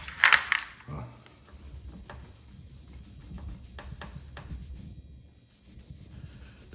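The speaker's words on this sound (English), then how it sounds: "So I'm really pushing hard, try to get all that off of here. Get all that wax off." Dried wax is scrubbed hard off a wooden crokinole board, giving a scratchy rubbing that comes in uneven strokes. A louder scrape opens the sequence, and softer friction and light knocks follow close by.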